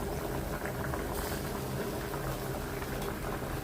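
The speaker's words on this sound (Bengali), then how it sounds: "সবজিটা হচ্ছে ভালো করে কষায়ে ঝোল দিয়ে দিছি আর এই যে মাছগুলোও দিয়ে দিলাম" A fish and vegetable curry with cauliflower simmers in broth, giving a steady, dense bubbling and boiling that runs unbroken and fairly close throughout.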